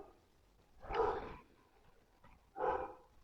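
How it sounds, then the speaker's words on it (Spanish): Dogs bark twice, two separate muffled barks a second and a half apart, heard from some distance in a quiet room with no talking. "No podían faltar los perros"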